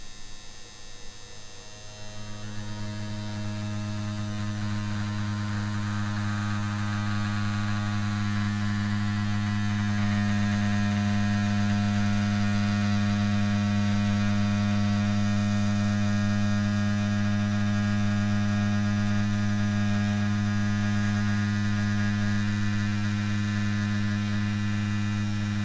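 Dragonhawk Fold Pro tattoo machine with a 4.2 mm stroke running at about 8 volts, a steady electric hum that starts up and settles into a smooth, constant buzz for the whole stretch, close and alone.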